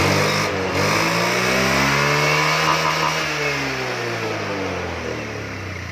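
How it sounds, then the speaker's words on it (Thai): A motorcycle engine in normal running condition revs up and eases back, its pitch rising and falling in a steady, loud drone close by. "เดี๋ยวเราจะเร่งเครื่อง ให้ฟังเสียงเครื่องยนต์นะครับ"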